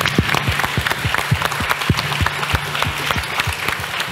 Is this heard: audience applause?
yes